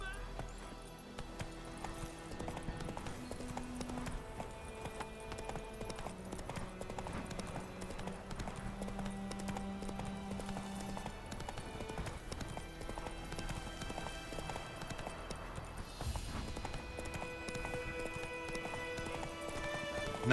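Clip-clop of the horse Roach galloping in The Witcher 3, a steady rapid hoofbeat rhythm running throughout under game music, with occasional whinnies.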